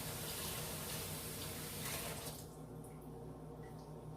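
Hot water runs from a kitchen tap while cooking chicken adobo, a steady close hiss and splash that cuts off partway, leaving quiet room tone.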